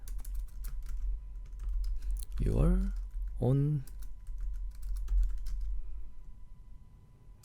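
Rapid keyboard typing clatters on a computer keyboard as text is entered, steady light clicks under a low hum, with a person briefly speaking in the middle.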